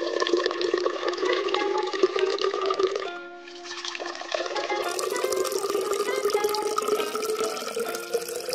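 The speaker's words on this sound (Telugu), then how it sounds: "సో ఈ బ్యాంబూస్ రెండింటిని ఇలా వాటర్తో క్లీన్ చేసుకోవాలి, నీట్గా కడిగేయాలన్నమాట బ్యాంబూస్ని." Water washes over two bamboo tubes being cleaned for bamboo chicken. A steady splashing, running flow is heard close throughout, with a brief dip near the middle and no talk.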